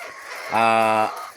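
A single drawn-out hen call from a flock of laying chickens, close and fairly loud, rising from quiet background for about half a second before fading back.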